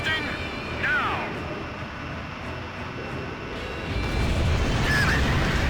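Burst missile detonating in the Ace Combat 5 combat flight game, a broad rumbling blast swelling under jet and cockpit sounds, growing louder toward the end.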